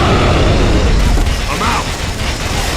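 Frag grenade blast in Gears of War, a loud, close booming explosion with crackling debris, dense and continuous across the moment.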